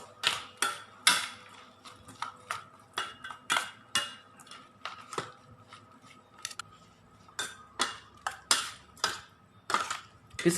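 Utensils clatter and scrape in a bowl as mushroom soup ingredients, including roasted rice powder, seasoning powder and fish sauce, are tossed together, a close, steady series of sharp clicks and clinks with no talking.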